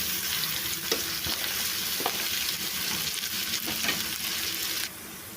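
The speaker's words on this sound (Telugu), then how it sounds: "ఈ అల్లం వెల్లుల్లి పేస్ట్ పచ్చివాసన పోయే వరకు ఫ్రై చేసుకోవాలి." Ginger garlic paste fries in a pan for a fish curry, giving a continuous close sizzle with occasional scraping stirs, cutting off to a quieter hiss near the end.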